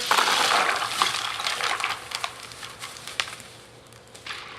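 A bag of ice cubes tumbles into a bucket of water for an ALS ice bucket challenge: a close, dense clatter and rattle of cubes, loudest at the start, thinning into scattered clinks and splashy knocks, with no talking.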